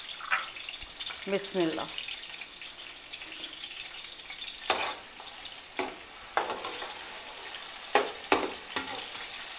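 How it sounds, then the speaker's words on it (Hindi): Chopped onions sizzle in hot oil, a steady soft frying hiss with sharper crackles and stirring clatters every second or so. A voice speaks briefly near the start. "ऑयल हमारा गर्म हो चुका है, हम कटे हुए प्याज इसमें डाल रहे हैं।"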